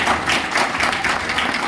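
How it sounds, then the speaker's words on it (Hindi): Applause at a seminar in Gurgaon, Haryana: a dense, steady patter of many hands clapping together throughout, moderately loud and fairly close, with no talking over it. "एक बार विनोद सर के लिए जोरदार तालियां"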